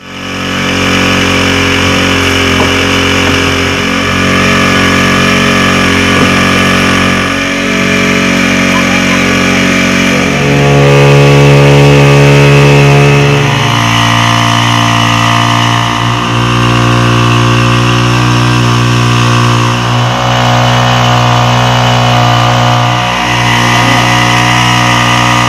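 A farmer-built four-wheel crop sprayer runs on a petrol engine, which sends a steady, loud mechanical drone through the whole stretch. Its pitch drops and shifts for a few seconds midway, then settles back into a continuous run.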